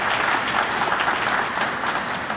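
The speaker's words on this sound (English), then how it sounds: "let's give them a round of applause for their efforts" Steady crowd applause at the ribbon cutting of the Greenlink Downtown Transfer Center, a dense, even wash of clapping from an audience that holds at full strength without pause or voices.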